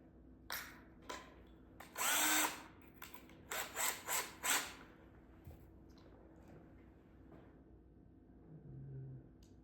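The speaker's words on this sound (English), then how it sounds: "gonna try a different drill first before I give up and do a whole different set of screws" A power drill drives screws into a wooden battery shelf in several short, whining bursts separated by pauses, fairly close but quiet overall.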